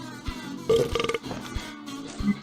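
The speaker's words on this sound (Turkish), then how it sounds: "Oy nasıl güzel geğiriyor." A person in a PUBG Mobile game session lets out a drawn-out burp, a croaky rippling belch followed by a shorter one near the end, heard close and alone without talking.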